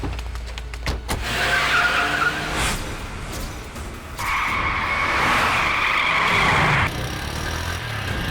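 A car skids hard with a sustained tire screech in the middle of a tense, noisy movie scene, the squeal rising loud for a few seconds before cutting off, with other impacts and noise around it.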